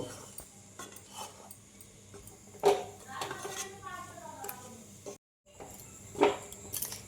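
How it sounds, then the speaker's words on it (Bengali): Palm sandesh mixture with powdered milk being stirred in a cooking pan, giving close, intermittent scrapes and clinks of a utensil against metal, with a short quiet gap near the end. "এখন দেখো এটা আস্তে আস্তে আমি লেড়ে চেড়ে একটা সন্দেশের পাক দিব"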